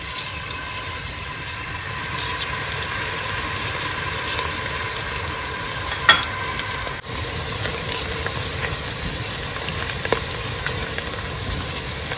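Chopped onions sizzle in hot oil in a pan, a steady, even crackling hiss with one brief knock partway through.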